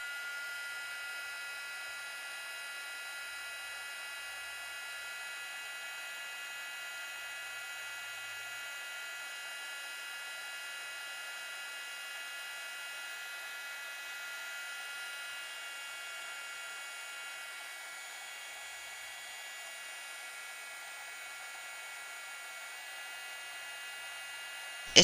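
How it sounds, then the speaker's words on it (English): A heat gun blows continuously while rhinestone earring settings are soldered with 300-degree solder wire, giving a steady, even whirring hiss with a high whine and no pauses. "I will be using a heat gun and 300-degree solder wire"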